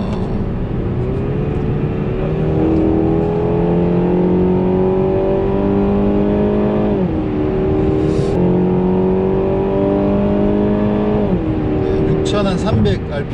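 A Renault Samsung SM6 engine climbs in manual mode toward about 6300 rpm, heard from inside the car as a loud, steady drone that rises in pitch, dips at each shift and rises again.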